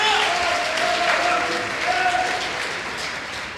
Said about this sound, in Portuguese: Se é para aplaudir, aplaude mais forte.